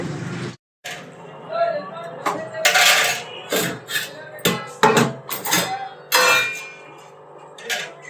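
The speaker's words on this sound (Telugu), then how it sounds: "ఇప్పుడు గిన్నెలు తోముకుంటానండి" Dishes, pots and pans are scrubbed and washed in a household in Telangana, India, with repeated clanks, scrapes and splashes of metal vessels coming in irregular bursts, close by and fairly loud.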